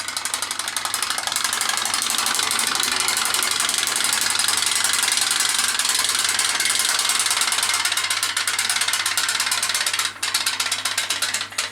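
A small radio-controlled model steam engine runs continuously nearby, giving a loud, fast, even mechanical clatter with rapid ticking beats and a steady hum, briefly dipping near the end.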